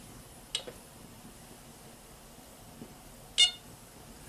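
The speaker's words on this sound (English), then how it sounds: "Now that's a beep, which means it was a safe move." Electronic beep from the 1981 Dark Tower board game: two short, bright bleeps, one near the start and a louder one past the middle, separated by quiet room hush with no talking.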